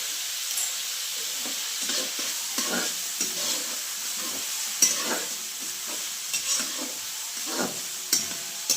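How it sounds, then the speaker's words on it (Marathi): Red masala with a little turmeric roasts in a pan, giving a soft steady sizzle broken by repeated scraping stir strokes at a moderate, close-up level, with no voices. "आता काय मसाला लाल भाजून घेते आधी"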